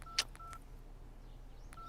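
Electronic keypad tones beeping as a number is dialed, a few short presses early then one more near the end, quiet with faint background hiss.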